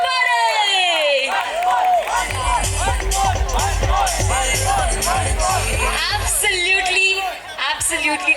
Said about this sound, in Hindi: जोरदार तालियां बजनी चाहिए for Monty and Ayushi, everybody